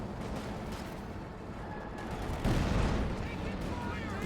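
Tank gunfire in Company of Heroes 2, set in a battle with Pumas, a Jackson and a Sherman 76mm, comes as a sharp heavy shot that swells into a booming blast over ongoing battle noise, with a commentator talking throughout.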